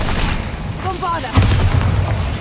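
A Bombarda blasting spell explodes in Hogwarts Legacy, a loud booming burst with a rumbling low tail over dense game battle noise, and a voice speaks briefly.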